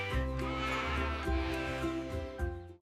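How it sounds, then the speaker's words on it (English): A cartoon goat bleats in a long, wavering call, then bleats again, loud and close with no other sound around it. "The goat gives us milk and healthy food."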